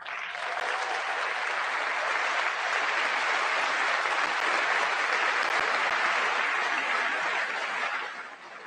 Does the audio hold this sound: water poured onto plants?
no